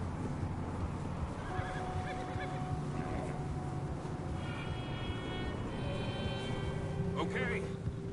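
Horses whinny and neigh amid a busy mix of Red Dead Redemption 2 game sounds, with steady background noise and faint hoofbeats running throughout.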